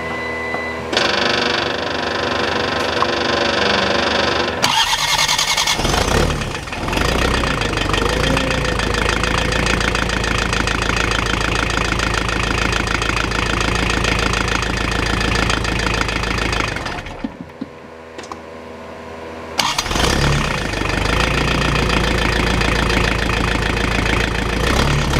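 A Ford LS160 tractor engine, freshly fitted with a new starter, cranks and catches, then runs with a loud, knocking idle. It cuts out briefly and fires up again close by.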